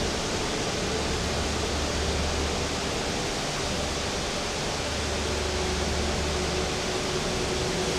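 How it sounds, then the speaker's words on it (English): A great rainforest waterfall in Guyana roars as a loud, steady, deafening wash of falling water, unbroken and close, with no voices. "the deafening sound of the waterfall"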